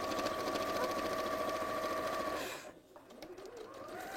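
A sewing machine hums and rattles steadily up close for a couple of seconds, then stops, leaving quieter room noise with faint pigeon-like cooing in the background.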